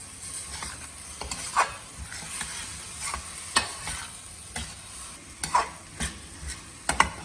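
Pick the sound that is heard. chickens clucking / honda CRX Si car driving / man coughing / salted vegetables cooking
salted vegetables cooking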